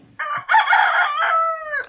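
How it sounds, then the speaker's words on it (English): A rooster crows once near the coop, a loud close cock-a-doodle-doo rising then sliding down, preceded by a soft cluck, with no talk. "Outside Granny Pig's chicken coop, 15 chickens are pecking in the soil."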